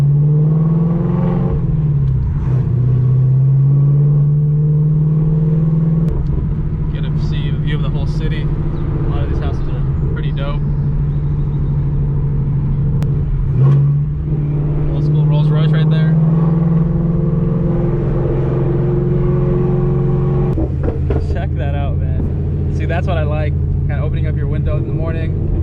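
A Whipple-supercharged Mustang GT cruises with a loud, steady low engine drone and rumble that shifts pitch as it changes gear, heard from inside while someone talks over it.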